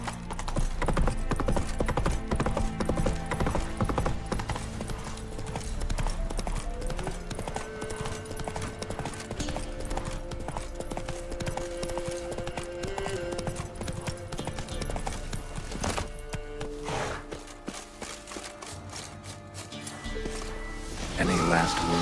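Roach, the horse in The Witcher 3, gallops with a continuous fast clip-clop of hooves under game music and talking, the pace breaking briefly near the end.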